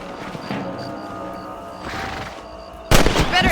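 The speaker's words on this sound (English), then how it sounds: "shooting rabbits and outlaws, I see" Rifle shots at rabbits in the Red Dead Redemption video game, a few scattered cracks over an ambient outdoor game soundscape, ending with a louder burst of noisy impact.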